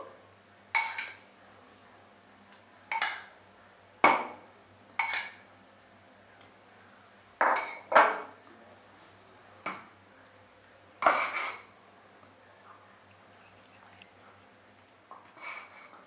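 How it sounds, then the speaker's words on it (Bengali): Chocolate muffin batter being mixed with a spatula in a bowl, heard as about a dozen separate scraping, clinking strokes against the bowl at irregular intervals, close and fairly quiet, with near silence between them and no talking. "এবার কিন্তু একটা স্প্যাচুলা ব্যবহার করে এটাকে মিশিয়ে নেব।"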